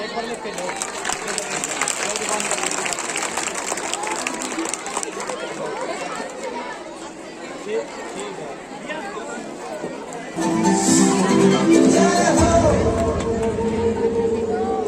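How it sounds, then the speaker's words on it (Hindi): Applause from a school audience at an annual day celebration, greeting a dance by class 3 to 5 students; a broad, steady wash of clapping and crowd chatter, with music coming in loudly near the end. "तालियां"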